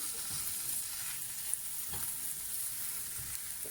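Chicken Wellington filling of chicken leg fillets cooks down in butter in a pan, giving a soft, steady sizzle with occasional faint stirring scrapes, quiet and close.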